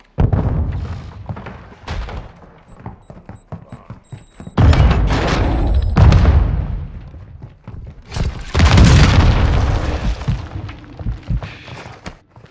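A grenade going off in Call of Duty: Modern Warfare II, heavy booming blasts and deep thuds among smaller impacts, loud and close, with game sounds filling the gaps.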